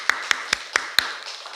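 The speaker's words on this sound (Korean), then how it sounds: "영광의 박수를 하나님 아버지께 올려드리겠습니다" Five sharp, evenly spaced claps ring out about a quarter second apart, close and distinct, as applause during a Sunday church worship service, then fade.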